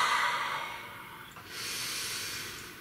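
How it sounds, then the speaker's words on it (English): One long, deep breath drawn in and let out through the nose, close and clearly audible, a soft breathy hiss with a brief pause between inhale and exhale. "Please take a nice deep breath."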